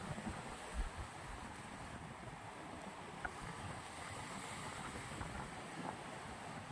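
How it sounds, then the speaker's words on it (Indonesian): Large ocean waves wash onto the beach with a steady, broad roar, mixed with wind buffeting the microphone and a few faint, brief knocks, heard alone with no talking. "Ombaknya sangat besar sekali."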